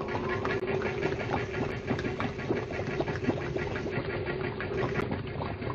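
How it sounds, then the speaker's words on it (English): A compressor engine aboard a vessel in a 1937 film runs steadily, a loud continuous mechanical hum with a chugging, knocking pulse and no voices over it. "Try that compressor, will you?"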